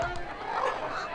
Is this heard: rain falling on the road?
no